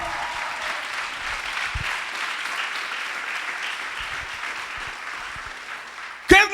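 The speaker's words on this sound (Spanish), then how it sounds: "Alguien tiene que darle un aplauso fuerte al Señor." A church congregation gives loud, sustained applause that fills the space evenly, ending with a brief sharp knock.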